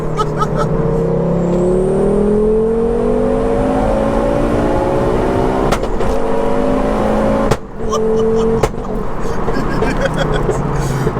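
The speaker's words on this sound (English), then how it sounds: "that 5-cylinder sound mixed with your flat foot shifting" A turbocharged five-cylinder engine in a four-wheel-drive-swapped Ford Focus ST climbs steadily in pitch under hard acceleration, broken by flat-foot gear shifts and sharp pops, heard from inside with voices over it.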